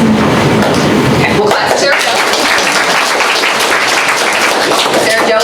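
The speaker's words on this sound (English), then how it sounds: "we'll clap for Sarah Jo" Audience at a school board meeting applauding a student, a loud dense wash of clapping that fills the room steadily, with a few voices audible beneath it.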